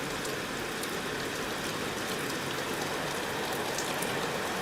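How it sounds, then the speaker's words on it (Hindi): Heavy rain pours down in a dense, unbroken hiss of drops striking surfaces, steady and loud from start to finish with no voices. "जिलार विभिन्न स्थान में प्रबल वर्षा लगी रही"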